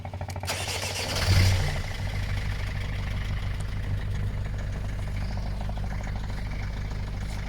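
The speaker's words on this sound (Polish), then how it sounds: "Tak sobie odpala zimny silnik." A car's cold engine cranks and catches with a brief louder surge, then settles into a steady, low, even idle that continues for several seconds, with no voices.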